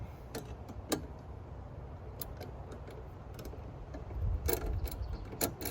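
Nuts and bolts being tightened by hand on a Chapin 8622B tow-behind lawn spreader, giving scattered sharp metallic clicks and ratcheting ticks over a low steady background rumble, with a denser burst of clicking near the end.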